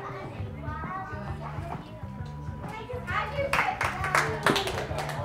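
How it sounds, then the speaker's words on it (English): Sharp hand claps ring out in a calisthenics gym in Marbella, several crisp smacks bunched in the latter half amid children's chatter and nearby talking. "I got a clap."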